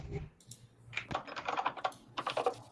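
Computer keyboard typing during a board meeting, a run of quick, irregular key clicks that comes close and clear with no talking over it.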